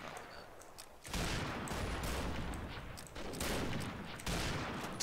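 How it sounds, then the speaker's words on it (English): Bursts of automatic gunfire in the online shooter game Combat Arms, heavy rattling volleys that start after a quieter first second and come in several waves, fairly close but low in overall level. "So I'm getting shot at, and I have no idea who or who's shooting me."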